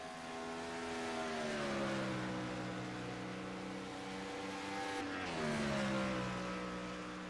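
A race car engine at Virginia International Raceway holds a steady drone, then drops and throttles back up around the midpoint, a sustained mid-distance motor tone rising in pitch with no voices.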